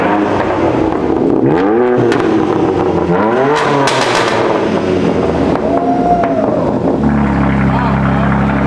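A BMW M340i with an AWE track exhaust revs hard in short bursts, its pitch climbing and falling in loud sweeps, then settles into a lower drone as voices talk over it.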